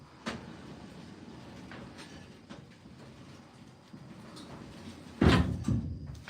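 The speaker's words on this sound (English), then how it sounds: "That's the garage door." A garage door moves with a low, continuous rumble that rattles along for several seconds. Near the end it grows to a louder, heavier clatter as it shifts, with no voices.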